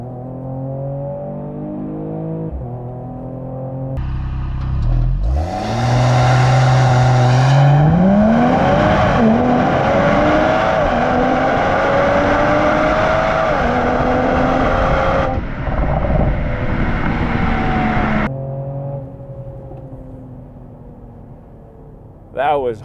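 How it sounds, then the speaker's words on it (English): A 2022 Mercedes E53 AMG S coupe launches hard in race mode with launch control, its engine note climbing steadily into a loud sustained roar. Shifts follow, and a voice speaks over the idle before and after the run. "Okay, let's try launch control. We're gonna start this. Ready, race mode, pedal to the metal."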